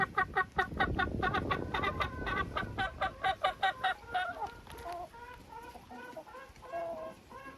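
Chickens cluck in a coop as shell grit feed is brought in, a busy, close cluster of overlapping clucks and short calls, loud at first and thinning to sparser, rhythmic clucking.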